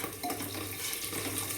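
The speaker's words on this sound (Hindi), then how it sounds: "पर ये रोज रोज बर्तन धोने का काम" Dishes, pots and utensils being washed, with steady running water and scattered clinks and scrapes of metal and crockery nearby, no speech.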